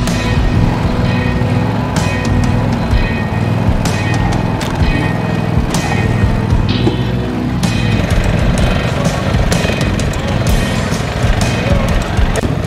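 Riding lawn mowers drive along outdoor trails and up a slope, their engines giving a steady, loud rumble with bumps and rattles throughout, and faint talk underneath.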